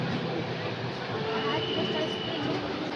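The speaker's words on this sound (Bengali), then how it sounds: "আমাদের ট্রেন ছেড়ে দিয়েছে, এখন যাচ্ছি।" A moving passenger train carrying a family on a journey, its steady close rumble and rattle filling the carriage while people talk over it.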